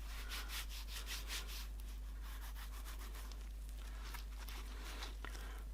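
Leather conditioner is rubbed by hand into a Gucci leather wallet, producing soft, faint rhythmic swishing and brushing strokes, close and quiet over a low steady hum.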